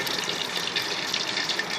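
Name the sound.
hot water flowing from waste oil heater heat exchanger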